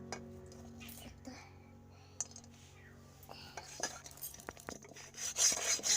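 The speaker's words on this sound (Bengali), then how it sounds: "ডালির সঙ্গে একটু ইটের টুকরো নিয়ে কড়াটা ঘষে নেবো এটাও দেখাচ্ছি এরকম করে ঘষলে" A piece of brick scraping against a burnt kadai wok, giving intermittent rough rubbing and clinking strokes that grow louder and more rapid toward the end, close up, with a voice speaking over it.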